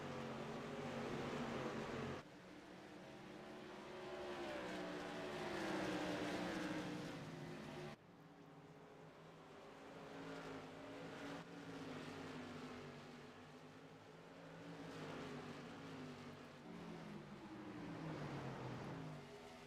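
Race car engines in a CLR Tour mod racing game drone steadily and close, revving up and down as the cars shift and corner, with no talking.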